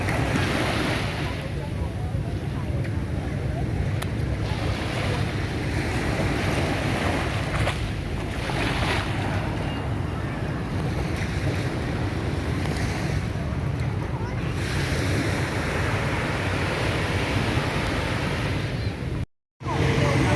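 Sea waves wash onto the beach at Nha Trang, Vietnam, in a continuous roar of surf mixed with heavy wind buffeting the microphone, loud and steady with a brief dropout near the end.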